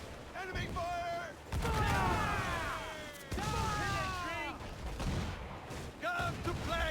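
Naval cannons booming in a sea battle in Assassin's Creed 4 Black Flag, repeated loud blasts and crashing volleys mixed with shouting crew voices and whistling shots, dense and continuous.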